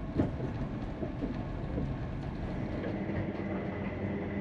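Indian Pacific luxury sleeper train with 26 carriages rolling at night through South Australia on the Adelaide to Perth run, a steady low rumble with faint rhythmic wheel clatter heard from inside a carriage.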